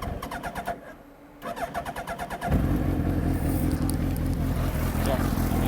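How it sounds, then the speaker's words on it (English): A Campagna T-Rex three-wheeler with a Hayabusa engine cold-starting: a few seconds of cranking clicks and whir, then it catches into a loud, rough, steady idle close by. "let me fire it up real quick for y'all. We'll do a cold start"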